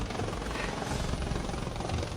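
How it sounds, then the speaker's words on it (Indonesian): A helicopter arrives at a school, its steady, dense rotor and engine roar filling the air loudly and evenly with no pauses or voices. "Naik helikopter ke sekolah."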